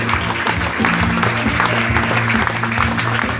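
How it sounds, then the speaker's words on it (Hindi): Audience applause greeting special guest Mukesh Rajput at a motivational event, steady and dense over a low musical hum, continuous throughout. "विशेष अतिथि के श्रीमान मुकेश राजपूत जी तथा जोरदार तालियों से स्वागत करें।"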